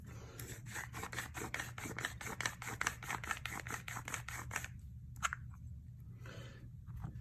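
A RAW Life Grinder hand grinder is turned by hand, making a rapid, faint scratchy crunching with regular rhythmic clicks that fade after a few seconds into softer intermittent scraping.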